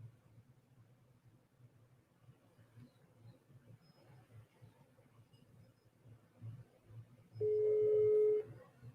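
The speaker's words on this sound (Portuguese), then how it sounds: "Tá chamando." A single ringback tone sounds through a phone line as a call goes through, a short steady tone near the end over quiet background hum.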